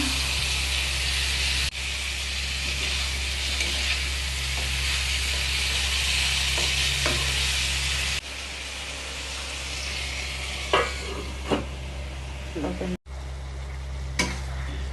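Chicken pieces (desi chicken) sizzle in hot oil in a pan and get stirred, a continuous loud frying hiss with a steady low hum underneath, a few scraping clicks near the end and a brief cut.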